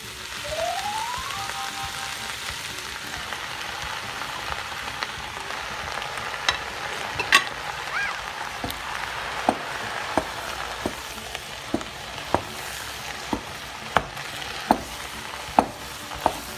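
Ground sausage fries with vegetables in a pot, a steady soft sizzle with occasional sharp pops and ticks growing more frequent toward the end.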